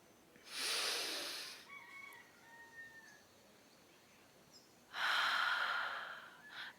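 Two long, airy breaths from a deep breathing exercise, each swelling for about a second with a quiet pause between them, close and unaccompanied by speech.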